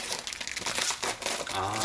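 Crinkly plastic film is peeled off bottles being sorted for recycling, a close, continuous rustling and crackling with no talk over it.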